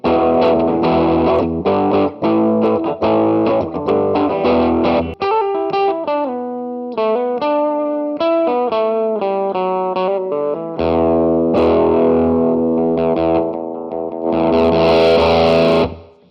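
Electric guitar through a small tweed amp model on a Line 6 Flextone II, warm driven tone, strummed chords and single-note lines ringing out loudly, no voices.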